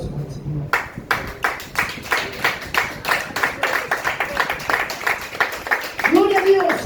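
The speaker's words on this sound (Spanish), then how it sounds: "Denle aplausos al Señor." Church congregation clapping in a steady rhythmic beat during a sermon service, loud and close, with voices mixed in and a brief shout near the end.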